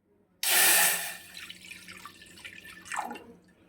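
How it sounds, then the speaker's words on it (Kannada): Water is poured from a glass into oats in a kitchen pot, a sudden splashing rush that tapers into drips and a second brief trickle, close and fairly quiet. "ಒಂದು ಸ್ವಲ್ಪ ಅರ್ಧ ಗ್ಲಾಸ್ ನೀರು ಹಾಕ್ತೀನಿ ಇವಕ್ಕೆ."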